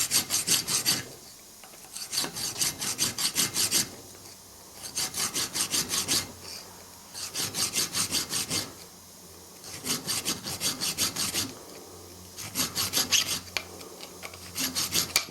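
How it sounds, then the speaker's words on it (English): A sharp metal file rasps rust and muck out of splines in steady back-and-forth strokes, arriving in repeated bursts with brief pauses between them, close and fairly loud. "This is quite a handy file, like a very sharp knife edge on it."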